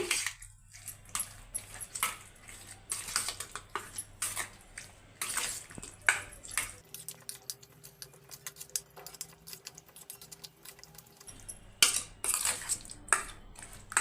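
Chicken marinade being mixed with three tablespoons of yogurt in a bowl for chicken biryani, a steady run of wet clinks and scrapes of a spoon against the bowl, close up with no talking.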